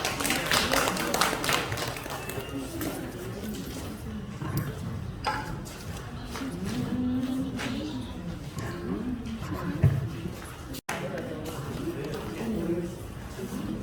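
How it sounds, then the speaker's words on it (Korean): An audience claps at a citizens' poetry recital contest during a literature fair in Mokpo, producing a steady patter of clapping throughout that fades slightly, with a voice speaking over part of it. "큰 박수 부탁드립니다."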